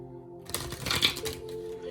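Angel romance oracle cards are shuffled and pulled in a short, close burst of papery riffling and flicking that settles into quiet, with no talking.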